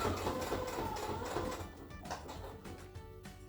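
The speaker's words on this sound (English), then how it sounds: "take your time sewing around the entire napkin ring" Sewing machine stitching steadily around a small fabric napkin ring, a continuous mechanical whirring hum at close range that runs without a break, with no talking.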